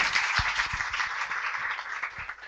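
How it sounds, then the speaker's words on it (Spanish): An audience applauds after a talk at a distance-learning tutoring session: steady, dense clapping from a room of people, moderately loud and continuous throughout, with no speech. "Un aplauso, sí."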